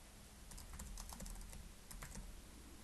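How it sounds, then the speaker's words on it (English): Typing on a computer keyboard, with soft rapid key clicks in a short steady run over a constant background hiss, faint and close. "And I'm just going to type the words After Effects."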